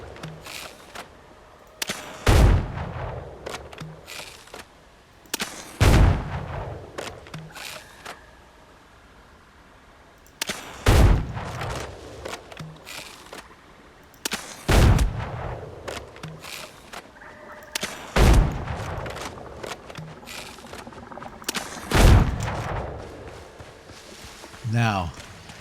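Gunfire in the pirate-era game Windrose: about eight sharp, heavy shots spaced a few seconds apart, some doubled, under steady talk.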